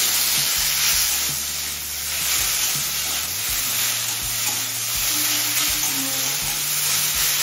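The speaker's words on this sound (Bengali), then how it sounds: "এবার টমেটো নরম হয়ে আসা পর্যন্ত ভেজে নেব।" Tomato pieces frying with cloves and a cinnamon stick in a pan, a loud, steady hiss of sizzling oil with low thumps of stirring and a constant high whine in the background, no talking.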